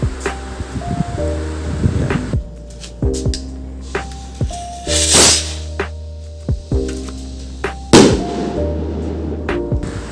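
Conde Double King firecrackers go off in several sharp, loud bursts spread unevenly over a few seconds, with crackling tails over a low background hum.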